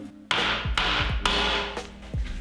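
Several sharp hammer taps drive a nail in, about four distinct strikes spaced under a second apart, close and fairly loud against a steady background hum.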